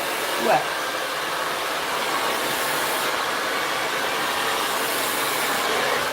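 A blow dryer runs with a round brush while hair is dried and straightened, giving a loud, steady, close whir that holds constant for the whole stretch.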